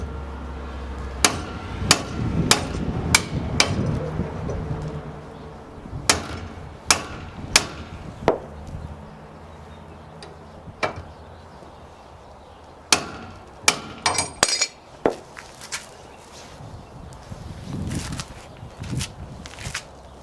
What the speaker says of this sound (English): I'll get out the hammer, see if that's going to help at all.